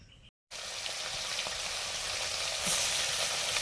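Koi fish frying in hot oil, a loud continuous sizzle that starts abruptly after a brief near-silent gap, with faint stirring clicks and a slight swell toward the end.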